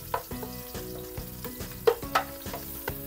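Small onions dropped into a pan of garlic frying in oil, a steady close sizzle punctuated by repeated clatters and scrapes of stirring, with sharp clinks of a utensil against the pan.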